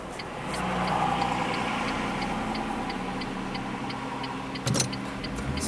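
A speeding city bus passes through a busy intersection in Wrocław, heard from inside a car as a steady low engine and traffic rumble, with a soft regular ticking throughout and a brief sharp knock near the end.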